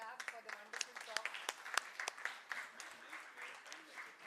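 Audience at a doctors' meet clapping after a talk, scattered, uneven claps at moderate distance with individual sharp hits standing out, slightly faint in a room.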